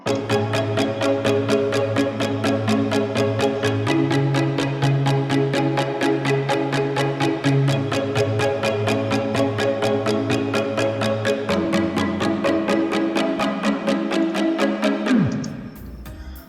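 Processed plucker synth in a track: fast, evenly repeating bright plucks carrying a changing chord progression with fuller low tones, running steadily before sweeping down and fading out near the end.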